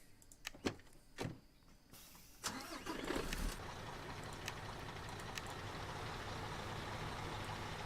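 A half-pipe construction truck in Construction Simulator 2015: a few sharp clicks and a door thud, then the engine cranks and catches, settling into a steady, even idle.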